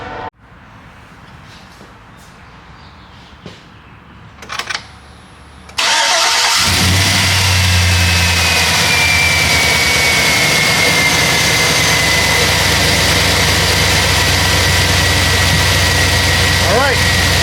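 A GMC Sierra with a 5.3L engine and a freshly repaired valve spring cranks and fires up. It settles into a loud, steady idle that continues to the end, following a quieter stretch of shop noise beforehand.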